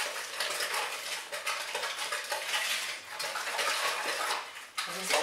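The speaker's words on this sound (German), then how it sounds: "Und dann verrühren wir das Ganze" A spoon stirs cake batter by hand in a bowl for a cappuccino cherry torte, a continuous close clatter and scrape of utensil against bowl with brief pauses, no talking.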